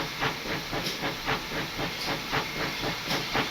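A Pannier tank steam locomotive in the video game Train Simulator Classic chuffs steadily on the Falmouth branch, loud rhythmic hissing exhaust beats repeating about three times a second over a continuous steam hiss, with no talking.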